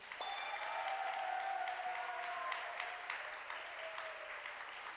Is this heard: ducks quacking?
no